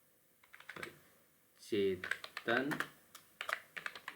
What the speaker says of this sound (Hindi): तो यहाँ पे मैं लिखता हूँ चेतन